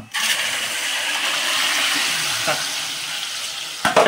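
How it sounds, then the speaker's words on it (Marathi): Gravy poured into a sizzling garlic tempering for a Konkani-style shevli (lotdi) vegetable dish, giving a loud, steady broadband sizzle and rush that runs nearly unbroken, with a brief clatter near the end. "आता आम्ही फायनली मित्रांनो लसणीच्या फोडणीमध्ये ही ग्रेव्ही टाकतोय"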